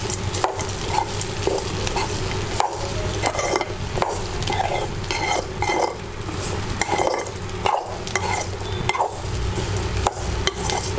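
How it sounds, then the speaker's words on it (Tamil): A spoon stirs sautéed pirandai (adamant creeper) in a pan, steady close scraping and shuffling strokes over a soft sizzle, continuous throughout with no talk. "பிரண்டையை வதக்குனதுனால ஒரு 1 நிமிஷம் போட்டு கிளறுனா போதும்."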